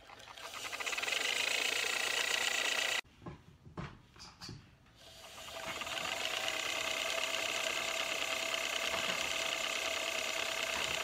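An electric spinning wheel run by an on-off foot pedal spins yarn with a steady whirring motor hum, stops abruptly for a couple of seconds of clicks and handling, then starts up again and runs evenly.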